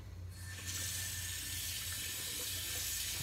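Steady running water pours into a sink while rinsing during a wet shave, a close, continuous hiss and splash that starts abruptly and holds even throughout.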